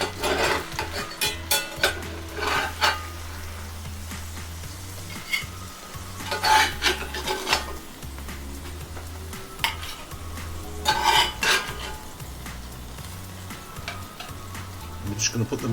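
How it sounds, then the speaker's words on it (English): Cod pieces come out of a hot cast iron skillet amid loud sizzling, with bursts of spatula scraping and metallic clinks against the pan, close up. "We're going to remove these from the skillet."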